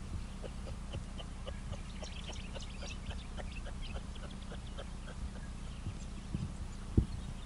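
A kangaroo standing about five feet away in Yuraygir National Park, New South Wales, makes a steady run of soft rhythmic clicking pulses over quiet outdoor ambience. A single sharp knock comes near the end.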